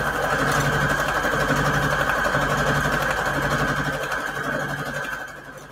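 A sewing machine stitches fabric onto index cards, its motor running in a steady, loud, continuous mechanical whir that holds throughout and eases off slightly at the end.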